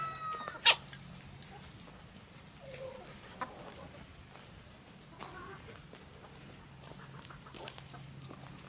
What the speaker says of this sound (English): And that chicken is going at it now.